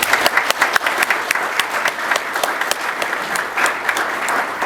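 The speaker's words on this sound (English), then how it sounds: "Ladies and gentlemen, please rise and honor our retirees with another round of applause." A military retirement ceremony audience applauds loudly and close, a thick, vigorous burst of many hands clapping with sharp individual slaps, sustained evenly throughout.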